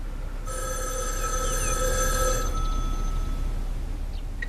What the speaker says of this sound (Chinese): 稍等一下啊，杨，你的电话